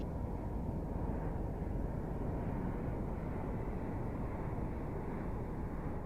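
An electric eVTOL vertical takeoff and landing aircraft flies, heard as a steady, even broadband whoosh and hum that stays constant throughout, with no voices.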